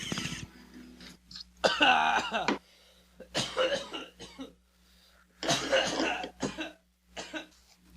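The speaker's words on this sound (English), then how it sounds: "I'll edit out all this coughing in post." Several bursts of harsh coughing in quick clusters, close and fairly loud, separated by short quiet gaps.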